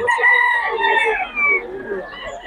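Gamefowl rooster crowing loudly with chickens clucking nearby, a long sustained crow that fades slightly toward the end over steady farmyard background.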